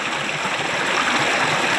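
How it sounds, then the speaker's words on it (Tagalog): Mountain water flowing out from under rocks, a steady, close rushing wash of stream noise without a break. "Pero, yung tubig, dito sa ilalim ng bato galing."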